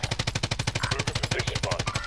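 Rapid automatic gunfire in the shooter Call of Duty: Modern Warfare, a continuous burst of evenly spaced, punchy shots at a fast rhythm, loud and close, lasting about two seconds without pause.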